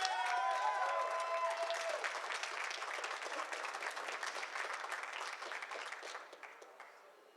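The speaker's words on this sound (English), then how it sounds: "Can we get a round of applause for both runners" Sustained audience applause at a Summer Games Done Quick 2019 speedrun marathon, a steady crowd of clapping hands that fades out toward the end, with brief talk at the start.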